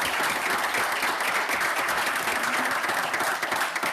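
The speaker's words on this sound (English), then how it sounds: "can we give a round of applause" Sustained applause from an audience at a monthly board meeting, steady hand clapping filling the room for several seconds with no talk over it.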